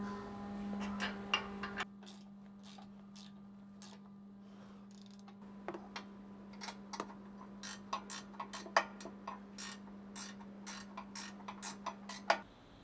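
Air ratchet snugging 17mm bolts on a Toyota Tundra front bumper, heard as repeated short clicking and ratcheting bursts over a steady low compressor-like hum, moderately loud and close, with no talking.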